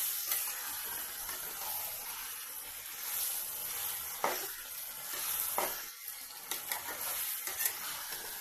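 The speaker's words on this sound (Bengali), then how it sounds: "ভাজা ভাজা করে নেব ওই তেলের সাথে।" Desi chicken pieces sizzle steadily in hot oil with repeated stirring scrapes, a continuous close frying hiss that rises in bursts as the meat is turned in the pan.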